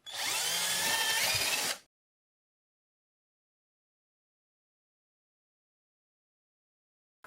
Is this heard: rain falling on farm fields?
no